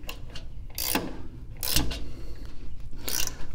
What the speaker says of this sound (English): let's see how loose this nut is on this generator